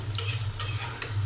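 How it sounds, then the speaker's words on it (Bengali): Radish greens fry in a pan on the stove with a soft sizzle, while a spatula gives a few quick scraping stirs over a steady low hum. "এখানে আমি মূলা শাক ভাজি করার জন্য দিয়ে দিয়েছি চুলায়"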